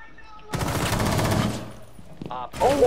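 Gunfire in Rainbow Six Siege: a dense, loud burst of rapid shots for about a second, then a short mechanical rattle and another sharp blast near the end, with game sounds around it.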